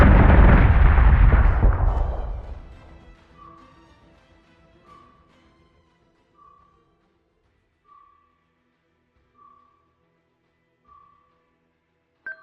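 Missile impacts and explosions in the space combat game Battlestar Galactica Deadlock: a huge roaring blast fades over a few seconds, then a string of faint, evenly spaced electronic blips follows, ending with a sharp click.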